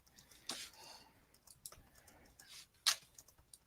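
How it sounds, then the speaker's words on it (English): Quiet, scattered taps on a computer keyboard, heard as sparse, uneven clicks with a few sharper keystrokes in a soft, quiet room. No speech is present. "I'm just typing this up in our dossier here."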